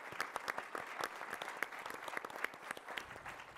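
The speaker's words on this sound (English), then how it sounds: "please give a round of applause for our panelists here" Audience applause for panelists at a conference session on electric vehicle charging networks, individual claps distinct within a modest, fairly quiet round lasting a few seconds.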